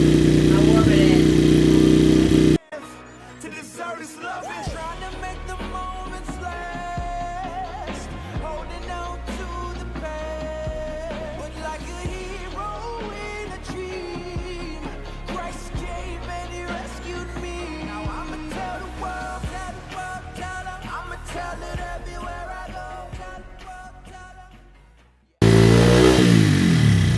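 A dirt bike engine runs steadily to warm its oil, its motor drone continuing under music for about twenty seconds.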